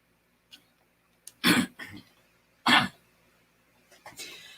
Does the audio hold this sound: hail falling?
no